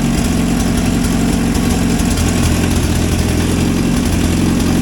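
A 1963 Hillman Super Minx engine idles steadily and loudly up close, its low, even rumble running without a break and with no talk over it.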